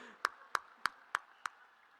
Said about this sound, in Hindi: तालियां बजाकर